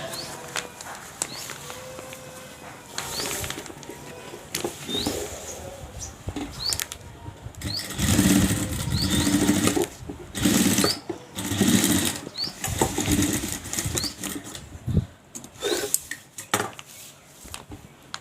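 A sewing machine stitching fabric for a makeup box runs in steady mechanical bursts, close and fairly loud, with clinks and handling of material between runs and brief pauses.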